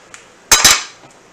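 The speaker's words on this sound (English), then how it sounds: "I'll leave the glass top ajar" Glass pot lid set ajar on a pot of boiling pasta with carrots, two sharp close clinks of glass on metal in quick succession over a faint background.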